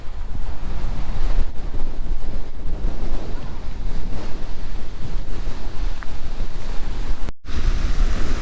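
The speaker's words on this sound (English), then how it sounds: "as the waves come crashing in, that water has to dissipate somehow and needs to go back out" Ocean waves break and wash up on a beach in a continuous loud roar, mixed with gusty wind buffeting the microphone and a brief dropout near the end.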